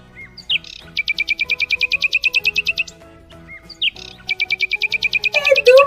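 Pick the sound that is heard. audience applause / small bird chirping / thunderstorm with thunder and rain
small bird chirping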